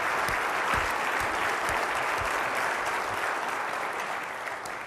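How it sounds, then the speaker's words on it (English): Crisp applause breaks out from a keynote audience at a partner summit, a broad patter of many hands with a few sharp individual claps, moderately distant and slowly fading. "someone started to clap"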